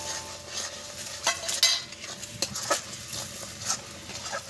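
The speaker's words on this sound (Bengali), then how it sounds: "আর হলুদ অল্প একটু হলুদ, আর সামান্য একটু নুন দেব আন্দাজ মতো, দিয়ে এটাকে একটু নেড়ে চেড়ে নেব।" A spoon stirs turmeric and salt into potol chingri (pointed gourd with prawns) in a pan, giving scattered scraping clicks and metal taps over a soft, steady sizzle, close and fairly quiet.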